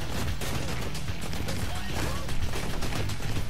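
Rapid, dense assault rifle fire and crashing impacts from the shooter video game Blue Estate fill the whole stretch loudly and continuously, with some heavier bursts toward the end.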